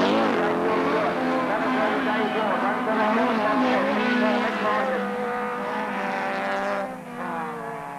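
Rallycross cars, a mix of Formula B, C and D machines including a VW Beetle, race round Paddock Bend at Lydden Hill in 1985, engines droning and revving loudly and continuously with shifting pitch as they pass close by.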